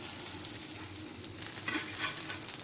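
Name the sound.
chickpea chicken kababs frying in a pan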